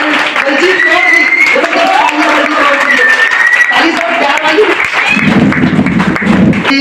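Loud, continuous clapping from a seminar audience welcoming two guests onto the stage, mixed with a talking voice and music over the top throughout.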